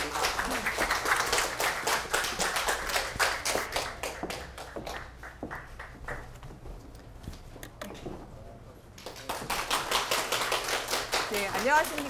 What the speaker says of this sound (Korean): 큰 박수로 김수현 선생님을 맞겠습니다